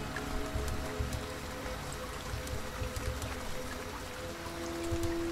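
Rain falls steadily in the video game Lorelai, a dense, even wash of patter and trickle that holds at a constant level throughout, with no voices over it.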